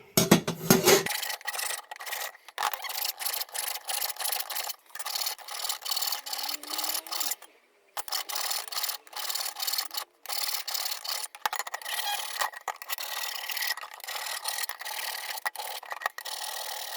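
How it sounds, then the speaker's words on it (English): Hand filing inside a steel exhaust pipe for a Hayabusa turbo kit car, a steady rasping stroke repeated many times at close range, with one brief pause midway and no talking. "So first I just need to deburr the inside of this pipe."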